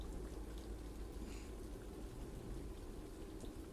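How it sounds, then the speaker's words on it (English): Rain falls in a steady, even hiss that holds without a break, moderately quiet and with no voices over it. "Is it raining?"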